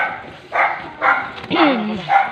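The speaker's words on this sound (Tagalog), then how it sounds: "Andiyan din mga aso nila." A dog barks four times in quick succession, loud and close, with short gaps between barks.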